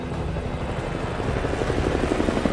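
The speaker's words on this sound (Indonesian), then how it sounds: "Mereka pun berhasil kabur dengan menaiki helikopter." A helicopter in a film escape scene, its rotor beating in a steady rapid chop that builds slightly louder over a few seconds, with no talk.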